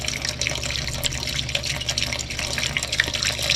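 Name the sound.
pouring water into an ore mill engine's cooling tank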